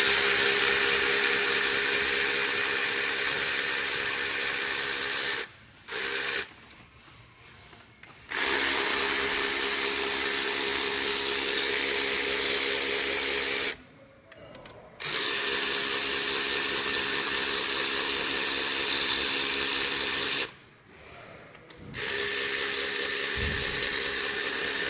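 A power tool pulls cylinder head studs from a 2016 Honda CR-V engine in several long whirring runs, loud and close, separated by short pauses of near silence.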